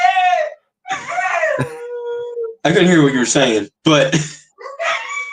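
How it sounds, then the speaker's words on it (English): A dog howling and whimpering in long, wavering, pitched cries, close and loud, with a person talking between the howls. "sorry, that's my dog."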